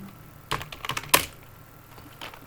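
A short flurry of keystrokes on a computer keyboard while entering a ping command in a GNS3 networking lab, a dozen crisp close clicks within about a second against quiet room noise.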